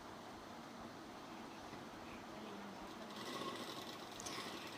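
A sewing machine stitches salwar panels together, a steady continuous mechanical whir running throughout at moderate level, slightly louder toward the end.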